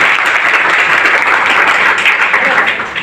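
Seated audience at an indoor talk or seminar gives a burst of steady, close, fairly loud clapping that carries on without pause, a few voices faintly under it.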